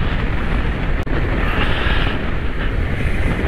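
Kawasaki Versys 650 motorcycle, a 650 cc bike, heard while riding: a steady broadband engine roar mixed with heavy wind rush, loud and continuous, with one brief dropout early on.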